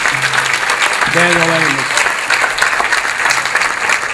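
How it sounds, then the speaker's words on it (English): Audience applause for the CEO of the year at an Atlanta Business League roundtable, a steady clapping wash throughout while someone briefly speaks over it. "Let's give him a big, big round of applause"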